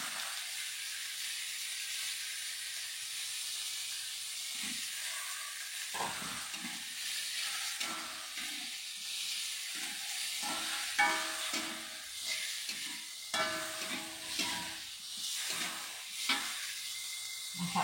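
Beef tendon (kikil) sizzles and spits steadily in a hot pan, with clattering stirring strokes throughout. The frying is loud and close, with no voices.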